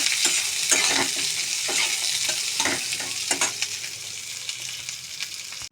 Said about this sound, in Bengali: কাজু কিশমিশের চাল মারো হালকা করে ভাজবো দিয়ে দিলাম সব একবারে এবার একটুখানি ভেজে নেব